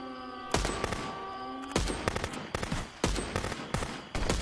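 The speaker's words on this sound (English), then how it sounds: "look at that AI shooting" Computer-controlled gunfire in Contraband Police Simulator, loud repeated bursts of automatic shots in rapid volleys with brief pauses between them.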